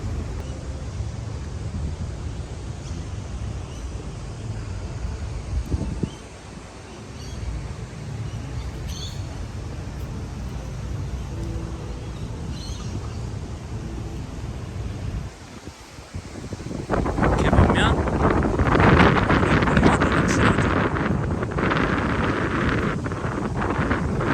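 Gusts of wind rush outdoors in a park, buffeting the microphone with a low rumble that dips briefly and then swells louder toward the end.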